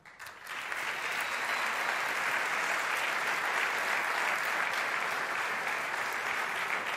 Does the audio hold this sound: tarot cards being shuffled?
no